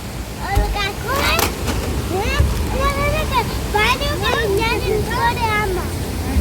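A waterfall in Mussoorie rushes in a steady broadband roar beneath people talking close by throughout.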